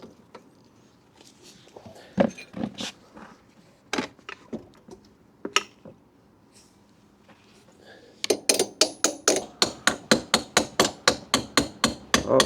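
Metal hammer blows drive a rear axle into its hole on a Honda CB125F motorcycle: scattered, irregular knocks at first, then a fast, even run of loud, ringing strikes close by.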